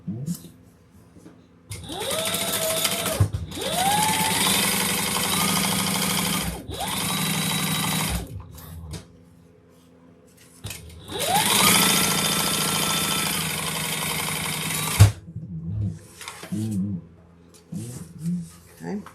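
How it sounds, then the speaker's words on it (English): Sewing machine stitching down the long edge of a quilt at a quarter-inch seam, running in two long loud bursts and a few shorter runs separated by pauses, with talk in the gaps. "We're going to sew down each long edge at a 1/4 inch seam allowance."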